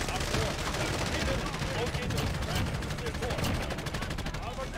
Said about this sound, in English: This is when machine gun comes in handy.